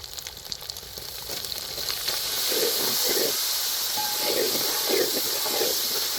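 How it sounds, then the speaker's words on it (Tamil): Onions and tomatoes sizzle and hiss in a hot pan, a steady frying sound with occasional stirring bursts, close and continuous. "வெங்காயம் தக்காளி எல்லாம் வதக்கி முடிச்சாச்சு"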